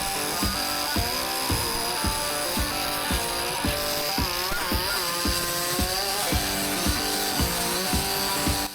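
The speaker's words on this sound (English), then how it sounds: "If you've never used a flap disc on a grinder to sand wood" Angle grinder fitted with a 40 grit flap disc sanding a power-carved wooden piece, a loud steady motor whine with rhythmic grinding pulses about twice a second as the disc bites the wood, alone without talk.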